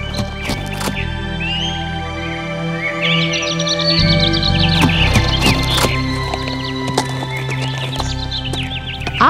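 A horse whinnies and snorts among twittering birds, with hoof clops and shuffling close by, fairly loud throughout.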